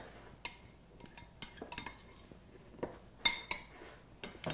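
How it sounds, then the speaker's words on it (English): A utensil mixes a watermelon salad in a bowl, giving soft, scattered clinks and scrapes at close range, sparse and irregular against a quiet background. "So I'm going to just mix that up a little bit here."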